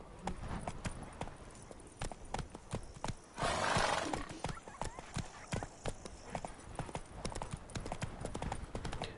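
Hooves of a horse beat a steady clip-clop through The Witcher 3 game world, in even rhythm for the whole stretch, with a short snort or whinny midway and quiet talk from a player over it.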